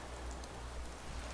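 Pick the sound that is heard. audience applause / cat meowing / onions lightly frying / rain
rain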